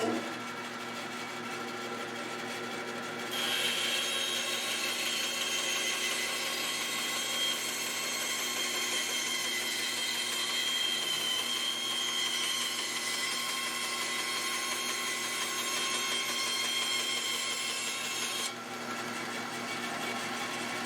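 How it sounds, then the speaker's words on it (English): A band saw cuts wood freehand, its motor giving a steady, moderately loud hum that rises as the blade bites into the workpiece for about fifteen seconds, then drops back to idle, with no voices. "I'm just going to try to make a cut freehand and see how I make out."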